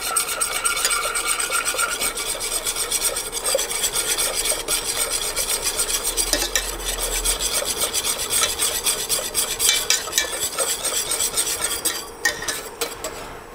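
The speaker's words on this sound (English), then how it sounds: "And we keep whisking hard all the time." A whisk beats hard by hand in a bowl for a Basque cake, a fast, continuous scraping and rasping rhythm, close and loud, with no voices.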